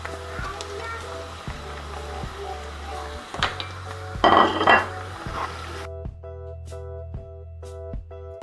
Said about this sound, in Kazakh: Енді біз оның үстіне етін салып,